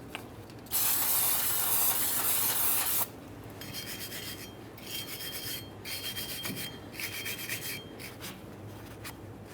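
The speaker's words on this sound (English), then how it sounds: "After we have this cleaned down with parts cleaner and a wire brush if necessary" Parts cleaner sprays in a loud, hissing burst of about two seconds onto the rear axle hub of a 1994-2001 Dodge Ram 1500. A wire brush follows with steady, close scratchy scrubbing strokes.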